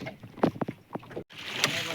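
Oars work a rowing boat on the Bhandardara dam reservoir, with a few close splashing strokes and water churning, then a breezy wash of water and wind, and voices faintly present.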